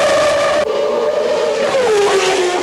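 Formula One race cars scream through the streets of Monaco, one high-revving engine whining past close by before a second car follows, its pitch dropping as it passes. No one speaks.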